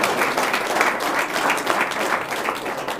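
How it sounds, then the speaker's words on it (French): A conference audience applauds the speakers, dense and loud clapping from a full room that stays strong and steady without a break. "Merci d'applaudir très fort nos intervenants"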